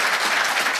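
Audience applause at a motivational talk about success in RCM business: a brief, loud, dense burst of many hands clapping, steady throughout.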